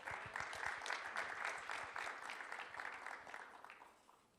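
A conference audience at NFT META Seoul 2021 claps to welcome the chairman to a special talk session, a dense, fairly faint round of applause that fades out over a few seconds.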